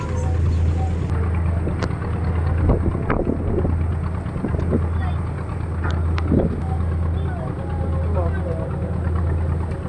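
A passenger launch idles on a river on the way to Chandpur, its engine a steady low drone throughout, with wind buffeting and people talking over it.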